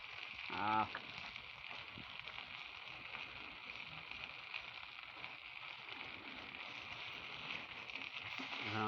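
Beef being cooked down in a pan, with puffed rice poured in. A steady, loud sizzling hiss runs throughout, and a brief rattling burst near the start marks the rice landing.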